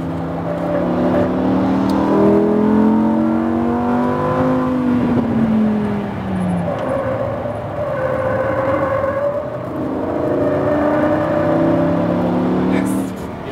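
A Lamborghini Huracan LP lapping a track at Speed Vegas, its engine revving up and down through gear changes and corners, loud and close from inside the car, with a driving coach talking intermittently over the engine.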